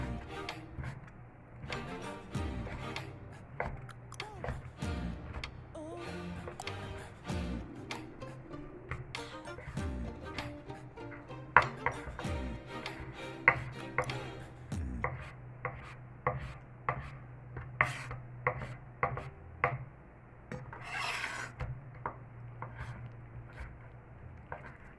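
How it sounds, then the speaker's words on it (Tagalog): A knife chops raw chicken breast into small cubes on a board, a steady run of sharp wooden taps that quickens into regular rhythmic strokes, close and clear with no talking. "hiwain lang po natin yung ating chicken breast. Hiwain lang natin siya ng maliliit"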